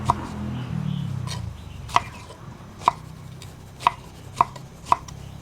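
A knife chopping tomato on a board, six sharp, separate cuts landing at a loose, uneven rhythm, close and distinct over faint kitchen background noise.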